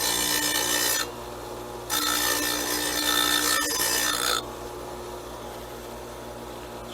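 Abrasive rubbing smooths the freshly cut edge of a glass wine bottle, heard as two loud, steady rasping bursts of about a second and two and a half seconds, close up, with no talk over them.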